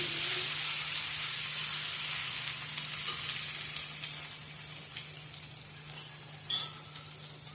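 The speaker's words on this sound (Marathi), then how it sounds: "पलटी करून घेऊया. एक बाजू भाजून दुसरी." Bread omelette frying in butter in a pan, a continuous close sizzle with a faint steady hum beneath it and a small clink near the end, no voices.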